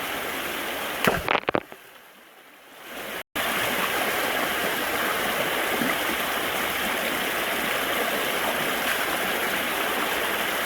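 Water rushing and splashing steadily in a stream along ancient cobble-filled river banks at a gold prospecting site, a loud continuous wash after a brief disturbance and a short quiet gap near the start.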